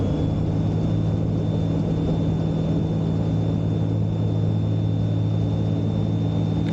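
A light aircraft engine runs at full takeoff power, a steady, loud droning rumble with a constant high whine throughout, no voices heard.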